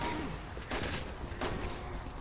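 Gunfire against zombies in the Resident Evil 6 co-op video game, a couple of sharp bursts of shots amid a noisy, busy game mix.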